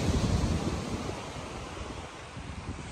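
Steady wash of surf and sea breeze on Ocean City beach at dusk, a continuous broad roar of waves with wind buffeting the microphone.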